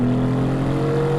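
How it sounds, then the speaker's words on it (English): Mercedes-AMG GT facelift V8 engine holding a steady, loud idle-to-rev drone with strong low harmonics, close and unbroken, no voices over it. "You still get that beautiful sound, the pops, the bangs. It is just the most characterful V8 in the world."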